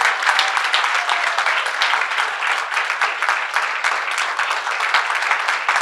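Loud, sustained applause from an awards event audience, a full room of hands clapping rapidly and evenly from start to finish, close and bright.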